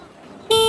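A car horn sounds once, loud and close, in a single steady blast of under a third of a second after a quiet stretch of faint cabin noise, while a learner driver is told to honk.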